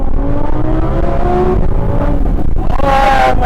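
A 640 hp Audi R8 V10 facelift with a Milltek exhaust and tune, revving hard in a loud, continuous roar with rising and falling harmonic engine tones, heard from close by.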